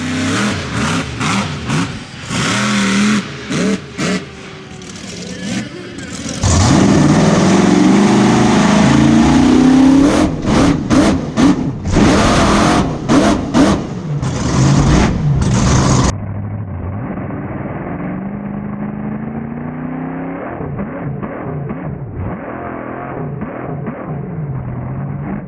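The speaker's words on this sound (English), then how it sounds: "this is the best slack wheelie I've ever done." A monster truck engine roars and revs in loud bursts during a slack wheelie jump, with choppy surges and sharp cutouts, then the sound continues more muffled and steady.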